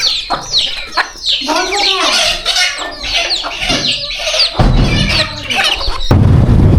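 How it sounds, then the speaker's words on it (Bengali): Village chickens pecking at rice cluck and squawk busily up close in a fast, overlapping chatter, with a burst of rustling scuffle near the end. "এই যে মুরগিগুলো চাল খাচ্ছে, দেখেন কি সুন্দর করে।"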